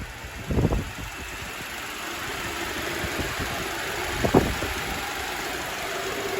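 A Honda Civic's K24A2 engine, at nearly 300,000 miles, starts and idles with a steady low rumble, with a couple of brief louder bursts of mechanical noise early and midway.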